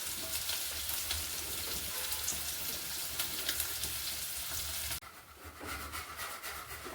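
Sabudana khichdi sizzles steadily in a pan while it is stirred continuously, giving a dense, bright frying hiss close by. The sound dips briefly and softens toward the end.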